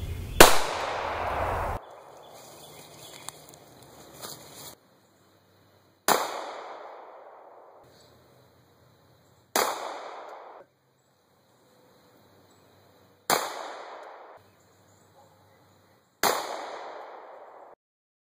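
Five sharp 9mm gunshots fired into 1-inch OSB plywood using 85-grain frangible rounds, each a loud close crack with a short decaying ring, spaced a few seconds apart with quiet between.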